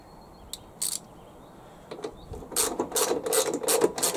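A ratchet tightens a bolt on a Husqvarna HYM430SP lawn mower, a few isolated clicks at first, then a steady run of quick close ratcheting clicks, with no speech.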